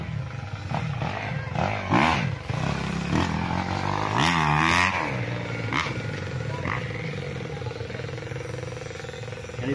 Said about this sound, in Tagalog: dinig na dinig dito ang andar ng mga motor